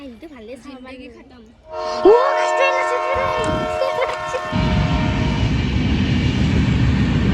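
A train horn sounds loudly and sustained, then the low rumble of rolling rail cars takes over, steady and close, with voices chattering early on.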